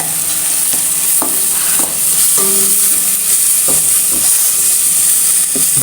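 Tomato sautéing with cumin and crushed pepper in a pan, a loud continuous sizzle with intermittent scrapes and stirs of a spoon, close up and without talk.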